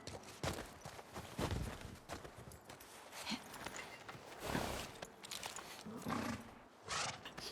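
A horse walks at a steady pace in the video game The Last of Us Part II, its hooves clip-clopping quietly and evenly over a faint background at the ski lodge.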